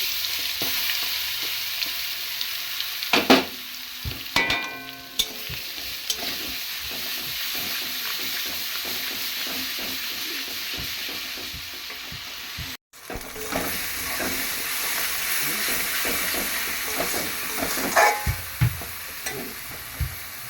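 A paste of ground pointed gourd peel fries with nigella seeds, making a loud, continuous hissing sizzle with stirring scrapes and a brief pause partway through, with no voices.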